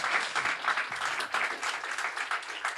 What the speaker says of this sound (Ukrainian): Ви можете підтримати ці оплески.